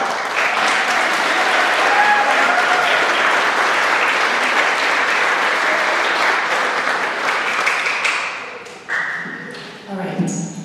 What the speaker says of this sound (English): I would like to give applause to Mrs. Shepherd.